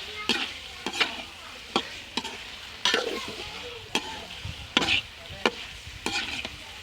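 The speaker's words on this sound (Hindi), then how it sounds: "चिकन को 5-7 मिनट के लिए हमें भूनना है" Chicken pieces frying in masala for a chicken and white chana curry, with a steady sizzle under repeated scraping stirs of a spoon against the pan, about six strokes at irregular intervals, close and clear, no voices.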